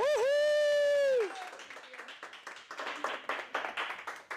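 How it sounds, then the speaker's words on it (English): An audience at a talk bursts into applause. A loud, high whooping cheer comes first, then a spread of scattered hand clapping that rises and falls in bursts as it continues. "Give Claudia Romero a round of applause, people"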